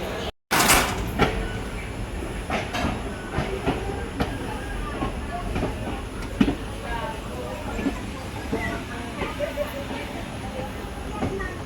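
The Kaveri Express train rumbles and clatters as it departs, with a brief door thump at the start and steady rolling noise throughout.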